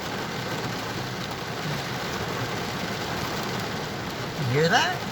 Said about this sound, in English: She is really raining.